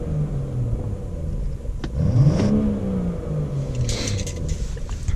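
A 2018 BMW 340i xDrive M-Sport Touring engine revs up and settles back, a close, deep rumbling surge that rises sharply, falls away, then idles in a steady low growl.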